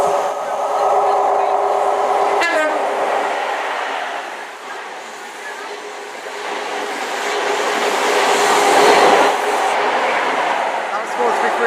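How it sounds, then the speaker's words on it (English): A cross-country passenger train from Plymouth to Edinburgh passes at Dawlish, a loud steady rumble of wheels and engines that dips briefly and then swells again as the carriages go by. "And that was a cross-country service from Plymouth to Edinburgh with a very nice two-tone."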